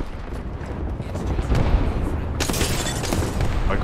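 Grenades go off in Apex Legends gameplay, a dense run of loud booming blasts that swells and turns harsher partway through, the impacts coming one after another with no pause.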